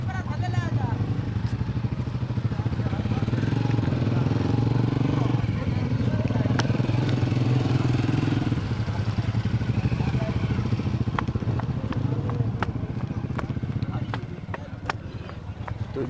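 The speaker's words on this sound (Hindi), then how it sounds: "तो ये हमारी बाइक आ रही है दोस्तों नीचे।" A motorcycle rides down the steep road from Marot Fort near Fort Abbas, its engine a steady, loud drone that stays close for most of the stretch before easing off at the end.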